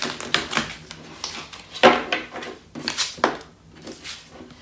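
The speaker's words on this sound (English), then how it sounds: "These cards are really hard to shuffle, you guys." Tarot cards shuffled by hand in stiff, clacking bursts, a series of sharp riffles and slaps close by with short pauses between them.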